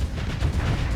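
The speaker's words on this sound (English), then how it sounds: "Fire torpedoes." Torpedoes launching and detonating in the space combat game Starsector, a dense, loud rumbling blast of low booms and crackling bursts packed into a single second.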